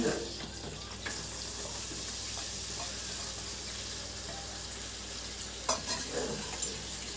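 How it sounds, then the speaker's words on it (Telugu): Two medium onions fry in hot oil for a mutton curry, giving a steady broadband sizzle that runs throughout, with a few brief stirring clatters toward the end and no talking. "ఆయిల్ వేడెక్కిన తర్వాత 2 మీడియం సైజ్ ఉల్లిపాయలు,"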